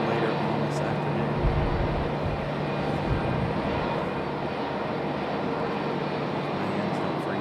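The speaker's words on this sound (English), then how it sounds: "This is our A319 coming in from Dallas, Fort Worth." An Airbus A319 arriving from Dallas Fort Worth at Raleigh-Durham, its engines a steady, fairly loud broadband roar that holds evenly throughout without rising or fading.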